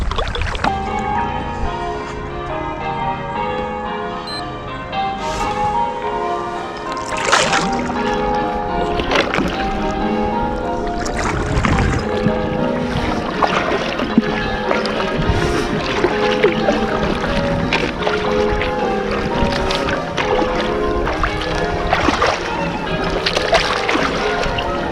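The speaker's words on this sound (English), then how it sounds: "So what we're doing at the minute is paddling a known distance and timing it." A kayak is paddled a timed distance on water, with rhythmic paddle splashes and sloshing beneath steady music with tonal bells, continuous and fairly loud.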